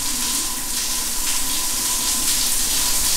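A shower runs inside a bathroom shower stall, a loud, close, unbroken hiss of spraying water from start to finish.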